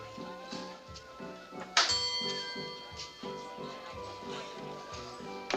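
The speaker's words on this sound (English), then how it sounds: "How many times can you ring the bell?" A bell rung over and over in an old crime film, its sharp strike standing out over a steady, rhythmic mechanical clatter, with repeated strokes continuing in the background.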